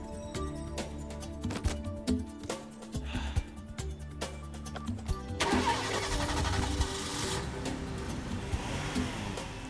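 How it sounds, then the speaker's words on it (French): A cartoon car engine cranks with a rhythmic starter whir, then catches and settles into a steady running rumble, heard up close. "Je reconnais ce bruit. Ce bon vieux moteur."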